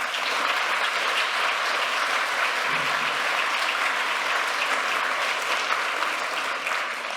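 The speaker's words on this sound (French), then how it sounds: "je vais vous présenter et vous demander un tonnerre d'applaudissements pour Marie-Isabelle Fleury" A conference audience gives a warm round of applause for an introduced speaker, with a steady, dense wash of clapping heard from mid-distance with no voices over it.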